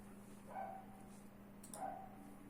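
A dog barks outdoors, two distant single barks about a second apart, faint against a low steady background hum.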